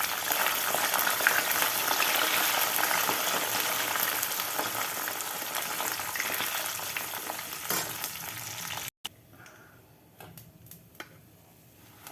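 Loud, continuous sizzling and bubbling of jackfruit fritters frying golden in hot oil, cutting off abruptly near the end to a quiet room with faint clicks.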